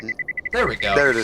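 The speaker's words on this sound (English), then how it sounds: "So you can hear the beeping going off" Electronic beeping sound effect played during a tabletop role-playing game session, a run of six quick, evenly spaced high beeps, followed by people talking.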